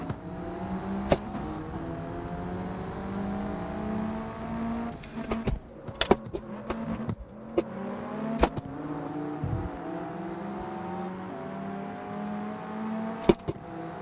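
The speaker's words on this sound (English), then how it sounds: "his engine sounds freaking annoying" Car engine in a driving video game revving and climbing through gears, a droning tone with shifting pitch, sharp clicks and bumps breaking in, no talk.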